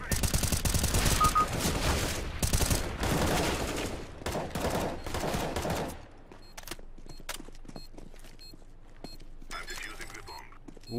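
Rapid bursts of rifle fire from AWP, AK and M4 weapons in Counter-Strike: Global Offensive, dense and loud for about six seconds, then scattered single shots and footsteps, with someone talking over the game.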